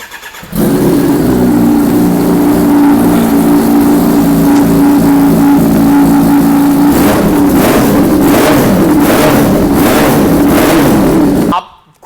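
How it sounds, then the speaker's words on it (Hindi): A superbike with an Arrow full-system exhaust idles loudly, then revs hard in several sharp bursts toward the end before cutting off. "और इसके अंदर आपको मिलता है एरो का फुल सिस्टम एग्जॉस्ट। एक बार साउंड चेक करते हैं इसका"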